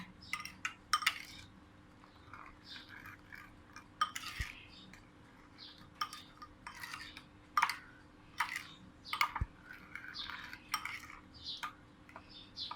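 A spoon stirs toasted rice powder into a Thai dipping sauce in a small bowl, making light repeated clinks and scrapes against the dish in irregular bursts, close and quiet, with no talking.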